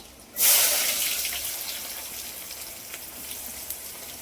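Chopped onion dropped into hot oil in a home kitchen pan sets off a sudden loud sizzle. The sizzle then settles into a steady crackling fry that slowly fades, with small pops and no voices.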